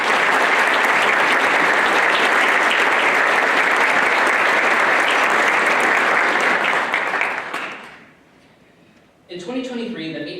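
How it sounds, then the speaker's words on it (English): Audience applause for the maintenance team at an annual community association meeting, a loud, full round of clapping that holds for about eight seconds, fades out, and is followed by a person speaking. "I want to give Brian Haas and the maintenance team a round of applause for jobs well done."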